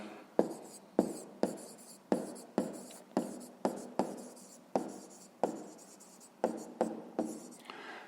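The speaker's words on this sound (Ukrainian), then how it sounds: "Пишемо відповідь." A pen or pencil writes by hand on paper while a math answer is recorded, a dozen or so distinct scratchy strokes in a steady rhythm, close and clear with no speech.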